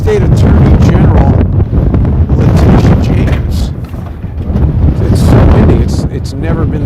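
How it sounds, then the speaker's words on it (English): Strong outdoor wind buffets the microphone in loud, rumbling gusts that swell and dip, with a brief lull midway, alongside a voice speaking in a windy city street. "it's never been this windy before."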